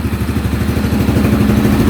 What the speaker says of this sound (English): Listen to how quiet that engine is.